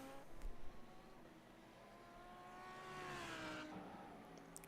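An Audi race car engine in the iRacing video game at the Bathurst circuit drones and revs, its pitch sliding up and down as it accelerates through gears, moderately loud, with no talking.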